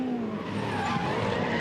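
Supercars race car at the Esses/Dipper at Bathurst, tyres squealing and engine roaring as it slides toward the outside wall, loud and close, with a sharp hit at the very end.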